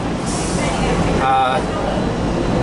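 Riding the terminal train at DFW Airport, with a steady loud rumble of the car in motion and a brief whine partway through.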